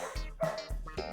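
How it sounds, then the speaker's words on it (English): Female dog barking loudly indoors near the microphone, three or four sharp barks in quick succession with a whiny, yipping edge, close and prominent. "is my can you hear my dog like"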